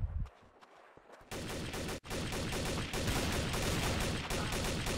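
Sustained gunfire in the video game Trouble in Terrorist Town, a brief lull then dense, continuous rapid shots that stay loud and fill the scene with no talking over them.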